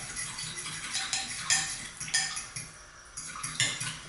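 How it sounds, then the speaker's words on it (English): A spoon clinks and scrapes against a bowl in quick, irregular strokes while salt, lemon juice and olive oil are whisked into a dressing for a raw cabbage salad, close and fairly quiet. "make sure you're mixing it well"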